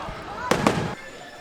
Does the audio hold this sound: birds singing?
no